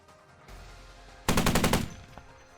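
An NSV 12.7 Utyos heavy machine gun on an infantry tripod fires a short automatic burst of about seven rapid, very loud booming shots, after a low rumbling lead-in, then fades to background noise.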